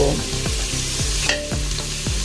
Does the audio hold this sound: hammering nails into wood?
no